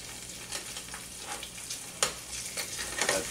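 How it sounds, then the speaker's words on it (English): Tex-Mex food with melting cheese sizzles in a hot pan, a continuous close hiss broken by small crackles and pops. "then you'll hear it when the sizzle starts to die down"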